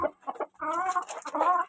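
Chickens being fed cluck close by in short broken bursts, then a longer, drawn-out throaty call, moderately loud with no talking.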